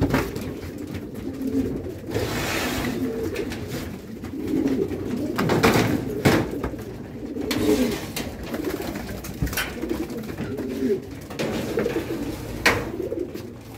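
Several pigeons coo in soft, low, repeated phrases close by, overlapping in a steady murmur with occasional wing flutters and clicks, and no talking.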